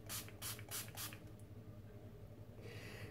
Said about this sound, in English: about to sort of spritz my face so that it isn't too cakey